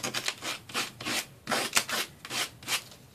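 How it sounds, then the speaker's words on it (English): Sandpaper rubbed back and forth over the rough edges of a small Dollar Tree wood crate piece, giving about eight close, steady rasping strokes in an even rhythm with no talking. "take it and rub it back and forth a few times, and it takes your rough edges off here"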